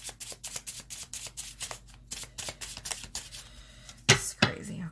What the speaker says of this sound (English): Why am I having so much trouble shuffling today?